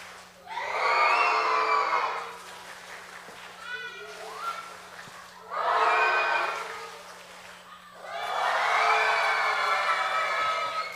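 Children at a summer Bible school church gathering cheer and shout in bursts of crowd noise, loud and close, with a steady low hum underneath and quieter gaps between the swells.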